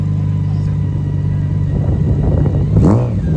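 A Harley-Davidson motorcycle idles with a loud, steady low rumble close by, then revs up sharply near the end.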